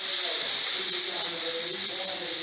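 A pressure cooker on a kitchen stove vents steam in a steady, loud hiss that carries on unbroken, with a faint voice barely audible beneath it.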